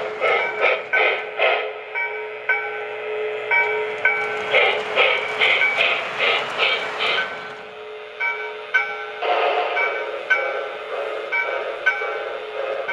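A model 080 steam locomotive with a faulty sound system plays rapid, evenly spaced chuffs in bursts with tonal whistle-like notes between them, close and fairly loud, with no voices.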